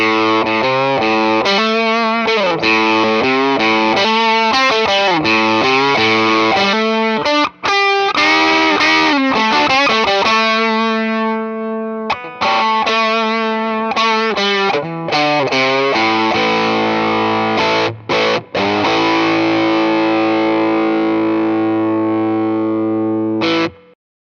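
Electric guitar played through a JHS Tone Bender-style fuzz pedal with the fuzz turned to zero and volume all the way up, loud and bright, with sustained chords and riffs, a few brief gaps, and a steady strong level throughout.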